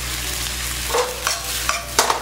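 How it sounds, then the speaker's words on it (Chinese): Fried rice with shredded pork being stir-fried over high heat in a wok: a steady, close sizzle with several quick scraping stirs and clatters of the spatula, and no voices. "开大火，快速拌炒一下哈"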